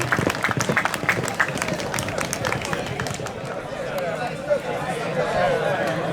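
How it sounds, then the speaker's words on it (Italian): Crowd at an equestrian show in Lanusei applauding the riders, sharp clapping strongest at the start then thinning into a murmur of chatter and background commotion. "Un grosso applauso."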